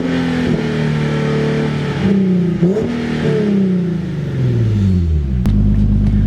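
A Nissan 370Z fitted with test pipes and open headers revs hard and loud up close, its deep raspy engine note rising and falling across several throttle blips before settling into a heavy, droning rumble.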